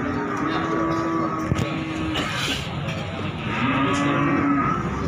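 Pegon breeding cows low and moo at a busy cattle market in Jaken, with a constant crowd and engine background and occasional voices.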